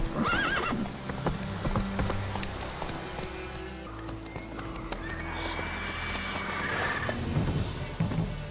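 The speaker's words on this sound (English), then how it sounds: "Whoa there, Roach." Hooves clip-clop at a run as Roach, a horse in The Witcher 3, gallops, with a neigh or whinny breaking through over game sounds and music throughout.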